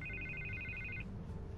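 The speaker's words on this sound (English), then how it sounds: "I can't get the phone to stop ringing." A telephone rings in the Batman video game, a soft electronic double-trill repeating for about a second and then stopping, set against a quiet low background hum.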